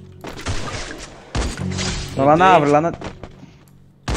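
Rifle fire from K98 and SVD guns in a video game: a few sharp, loud single shots with abrupt thumps between stretches of players talking over game audio.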